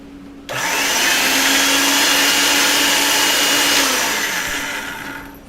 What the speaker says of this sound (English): this can actually get in the pasta machine